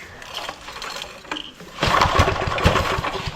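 A vintage Homelite generator that sat for 30 years cranks with a few rough pulls, then its small engine catches and runs with a loud, rapid, sputtering putter close by.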